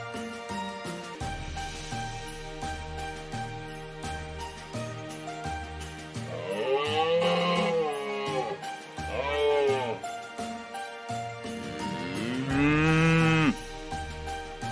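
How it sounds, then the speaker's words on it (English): Cows mooing on a farm, several long drawn-out lowing calls in sequence, loud and close, with a lower rumbling tone beneath and no talking. "That's a cow."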